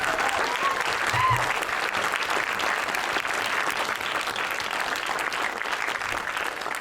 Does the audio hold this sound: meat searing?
no